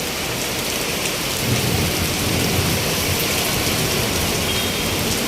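Heavy typhoon rain from Typhoon Carina pours steadily in a dense, unbroken roar, with a low rumble underneath and no voices.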